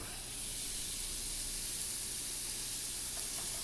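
Pork sirloin sizzles in a hot frying pan, a steady close-up hiss with a soft crackle and no voices.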